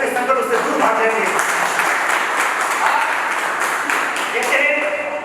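An audience at the 60th birthday celebration of a Jain acharya claps in sustained, dense applause for several seconds, with a voice speaking over the clapping.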